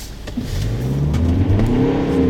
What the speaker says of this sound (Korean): 지금 가속을 한번 해보도록 하겠습니다